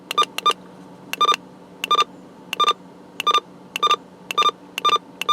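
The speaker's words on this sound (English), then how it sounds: "When you go down, you'll notice that it has a double beep." Electronic beeps from a President McKinley CB radio channel change, repeating in steady paired double tones when stepping down channels, loud and close with no talking.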